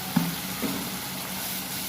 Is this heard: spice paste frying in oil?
yes